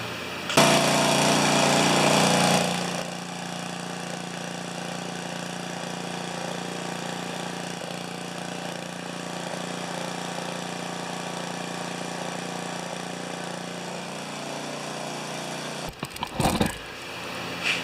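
A Briggs & Stratton stationary tiller engine running on purple gas starts with a loud burst, then settles into a steady, close idle with a faint surge, followed by a few rattling knocks near the end.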